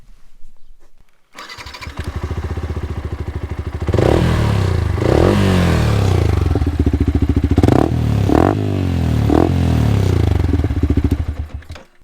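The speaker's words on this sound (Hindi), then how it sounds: "सबसे पहले इसका एग्जॉस्ट नोट सुनते हैं" Yamaha R15 M motorcycle with an Akrapovič aftermarket exhaust starting up, then idling close and loud, with several sharp throttle blips rising and falling over the steady idle.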